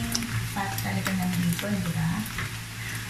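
Bacon fries in its own rendered fat with a continuous crackling sizzle, with occasional stirring. A voice talks over it throughout.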